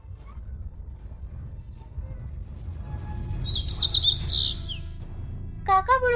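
A small bird chirps in a short burst of quick, high tweets midway through, fairly close, over low background rumble, with a brief voice-like sound near the end.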